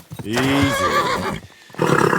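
A horse in the Kingdom Come Deliverance 2 video game lets out a loud, close whinny with descending pitched calls, followed by a short pause and then brief clip-clop or rustling.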